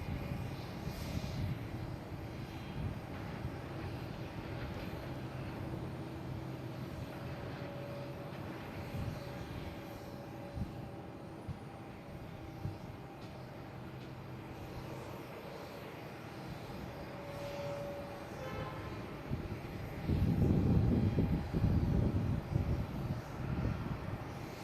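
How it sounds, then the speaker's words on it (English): A JetBlue Airbus A220 jet on arrival from Key West at Boston Logan rumbles steadily at a distance for over twenty seconds, its low roar swelling louder toward the end with no voices. "Got a JetBlue coming in from Key West, An A220,"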